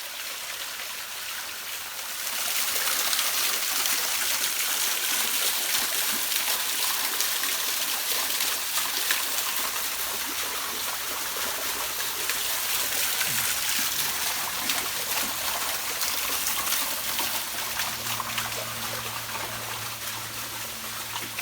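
Water trickles and splashes through a freshly connected micro-hydro pipe at a weak, steady flow, a continuous close hiss that begins after a quieter opening and carries on alone.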